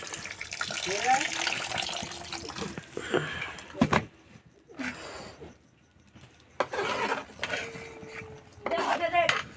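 Water runs and splashes into a pot while khichuri cooks outdoors in a village kitchen, with intermittent pouring bursts and faint clinks of utensils under voices talking.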